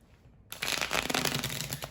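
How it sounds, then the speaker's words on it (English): A deck of tarot cards being shuffled up close, a quiet pause giving way to a steady riffling flutter that continues to the end. "As I'm shuffling the deck"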